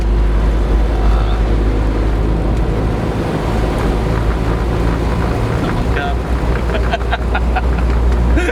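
A classic Mini van engine driven on a hand throttle gives a loud, steady low drone throughout from inside the cab, with faint rattles and road noise over it.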